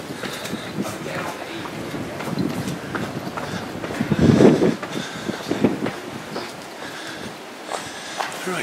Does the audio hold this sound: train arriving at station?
yes